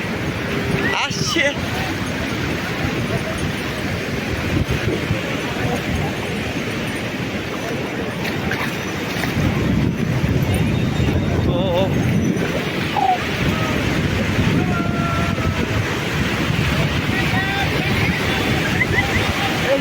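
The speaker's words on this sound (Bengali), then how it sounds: "এই যে বড় ঢেউটা আসছে" Sea waves break on the beach at Puri in a constant broadband roar with wind buffeting, swelling louder partway through, while a person speaks over the surf.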